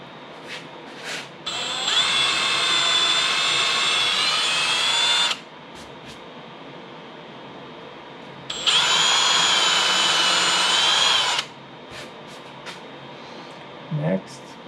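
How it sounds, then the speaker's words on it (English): Power drill fitted with a depth stop boring holes for a bridge placement, two sustained high whining bursts of about three seconds each separated by a pause, with brief quiet talk around them. "Putting a depth stop on my drill."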